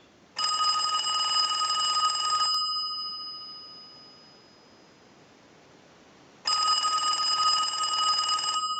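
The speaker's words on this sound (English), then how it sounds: "we're going to ring the unit. So we'll go ahead and send a ring cycle to it." A telephone unit rings during a ring cycle sent from a line analyzer, two bursts of bright electronic bell ringing a few seconds apart with a fading tone between them, clear and alone.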